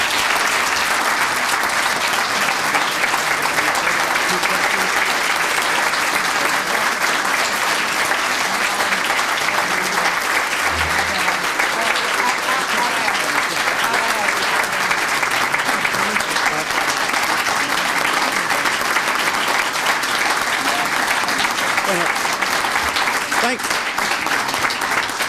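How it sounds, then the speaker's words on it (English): Sustained, dense audience applause fills the hall after a speech at a 1991 gathering, a steady loud roar of clapping with no pause throughout. "I hate to break the applause"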